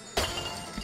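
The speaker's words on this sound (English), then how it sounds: "You can hear the glass bottles coming" Glass bottles shatter in the Trine 2 video game, one sharp crash with a brief scattering tail under a steady game background.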